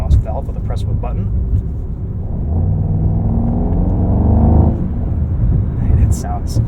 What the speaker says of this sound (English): We can open up that exhaust valve with a press of a button.